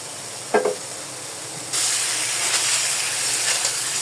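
Tomatoes sauté in a hot pan, a short knock followed by a sudden, loud, steady sizzling hiss that continues to the end.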